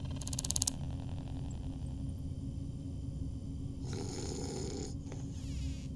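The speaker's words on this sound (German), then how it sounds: "Schnarchen Sie leiser" Snoring from a sleeping character in the detective game Shadows of Doubt: steady, rasping snores with a low rumble that continues through the whole stretch over a constant background hum, no talking.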